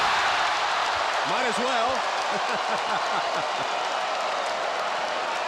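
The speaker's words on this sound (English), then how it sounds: "You hear the crowd." An NBA arena crowd roars continuously during a televised game featuring Vince Carter, a dense, loud wash of cheering under a broadcast commentator's voice.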